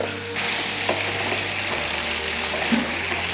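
Steady, close sizzling of chicken liver deep frying in hot oil over high flame, a continuous crackling hiss with a few small pops.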